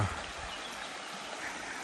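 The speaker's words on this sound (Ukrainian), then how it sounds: "Така невеличка річка." A small river flows steadily with a constant broadband rush and babble, faint and even, with no voices.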